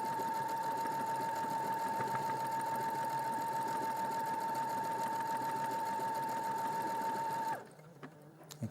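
A sewing machine stitches out lettering in a steady, close, rapid whirring run with a constant tone for about seven and a half seconds, then stops abruptly into near silence.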